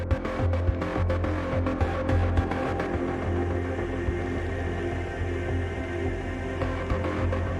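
A saved Diva synthesizer preset plays back as a dense, droning synth texture with a low throbbing hum and scattered clicky transients early on, steady and unaccompanied by talk.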